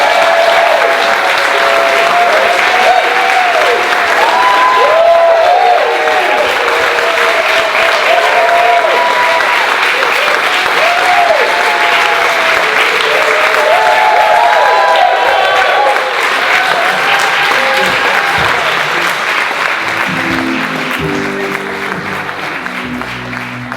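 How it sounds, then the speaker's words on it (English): Sustained applause from an improv theater audience, loud and dense clapping with some whoops and cheers, fading slightly toward the end as voices begin to come through. "You can applaud now."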